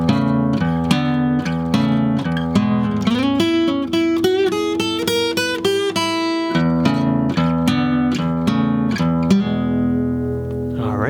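Old-school blues lead guitar lick played slowly over a shuffle rhythm on guitar, with chugging low chords under bent and sliding single notes in the middle, loud and close with no talking.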